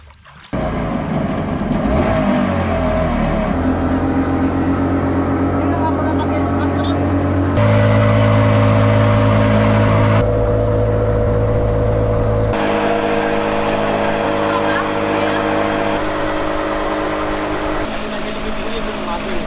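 A boat motor hums steadily and loudly at close range on a sea crossing to Menjangan Island, Bali, changing pitch in stages, with people talking over it.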